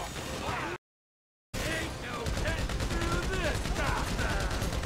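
Machine gun fire in the video game GTA 5 during a bank heist, sustained rapid bursts with a brief cut of silence early on, then continuous loud gunfire mixed with crashing destruction.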